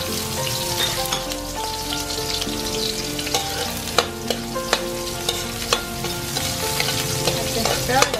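Ginger, garlic and onion fry and sizzle in a pan while being stirred, with steady close crackling and scattered sharp clacks of the utensil against the pan, no talking.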